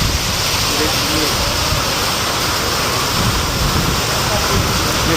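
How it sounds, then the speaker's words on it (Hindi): Heavy rain pours steadily during a fierce storm with strong winds, a dense, loud, unbroken roar filling the whole clip. "यहाँ पे बारिश बहुत हो रही है। तो ये देखिए, चारों तरफ बारिश ही बारिश हो रही है।"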